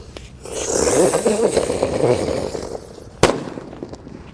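A mercon teratetor firecracker lit and pushed into the ground, a sustained fizzing hiss and crackle followed by a sharp pop.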